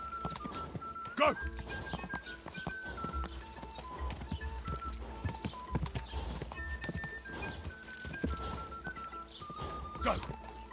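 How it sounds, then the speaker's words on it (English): Steady clip-clop of horse hooves throughout, close and rhythmic, under a tonal musical line and shouted voices. "Hey! Your horse!"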